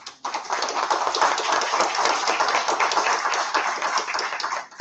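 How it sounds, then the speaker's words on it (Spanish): Audience at a Spanish-language legal lecture on consumer rights gives a warm round of applause, dense continuous clapping close and fairly loud, starting abruptly and stopping at the end. "el doctor Edison Paul Tabra Ochoa, a quien pido un cariñoso voto de aplausos."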